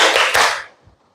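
Children in a classroom finish a burst of group clapping, a loud cluster of hand claps that cuts off sharply after about half a second, leaving near silence.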